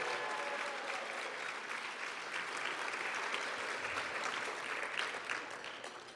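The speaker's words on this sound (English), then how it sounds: "Give her a big round of applause." Loud, steady audience applause for a nurse honored at a healthcare awards event, dense clapping filling the whole stretch with a few faint cheers mixed in.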